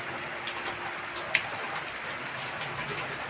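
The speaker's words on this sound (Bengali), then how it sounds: "এই বৃষ্টি শুরু হয়েছে দেখো বন্ধুরা, পড়েই যাচ্ছে অনবরত" Heavy, continuous rain pours down in a steady, dense hiss of drops striking surfaces, close by and unbroken, with no voices over it.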